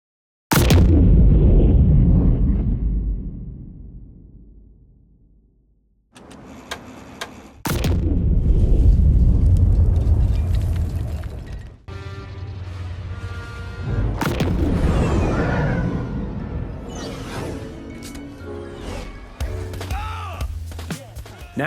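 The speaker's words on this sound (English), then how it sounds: "here's what our final explosion sounded like" A designed explosion built from iPhone microphone recordings: a sharp loud blast with deep low rumble that fades, then further layered booms and crackling debris tails that sustain and decay.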